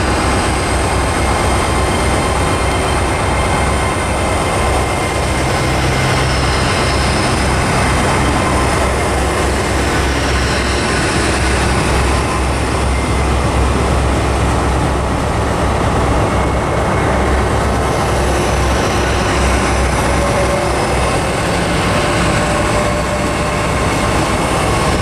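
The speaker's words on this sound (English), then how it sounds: "1511, the 1511, Great Western Railway service from London Paddington to Penzance" Steady, loud rumble and roar of a Great Western Railway train on the London Paddington to Penzance service at Plymouth, continuous for the whole stretch with gentle swells and no talk.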